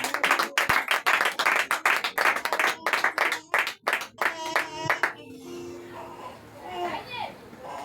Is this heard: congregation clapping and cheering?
yes